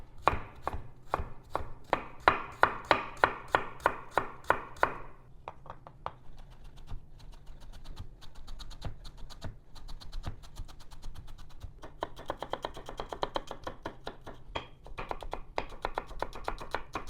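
A knife finely chops fresh turmeric on a board, first a run of loud, evenly spaced chops, then quicker, softer rapid tapping, all close up with no talking.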